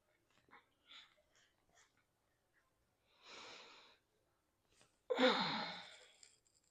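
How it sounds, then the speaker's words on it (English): Slow, deep breaths during a gentle yoga session: a few faint nasal inhales followed by two long, airy exhales, the last one louder and close, in a quiet room with no talking. "So we'll do some breathing."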